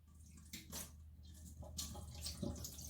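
Water is poured off a bowl of homemade butter, giving a quiet, close splashing trickle with a few small bursts and drips and no talking.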